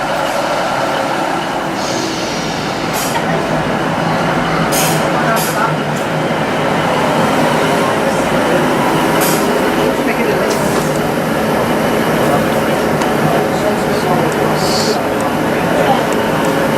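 Inside a local electric train leaving Manchester Piccadilly for Crewe via Manchester Airport, a steady loud rumble and rattle of the carriage fills the space, with occasional brief clanks and squeaks.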